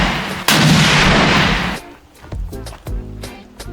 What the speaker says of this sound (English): Next up, I tried the sniper rifle,